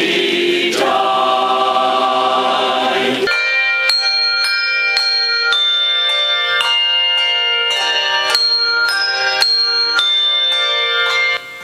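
A church bell choir at a Lutheran church plays handbells: sustained ringing chords first, then a steady series of bright struck bell notes ringing out over one another, loud and close, with no talking.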